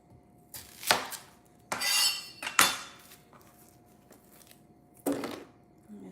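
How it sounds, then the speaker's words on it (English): A knife chopping onions on a cutting board in a home kitchen: a few separate sharp knocks and clicks with quiet gaps between them, fairly close, with no talking. "now I'm going to chop some onions so I can put them inside"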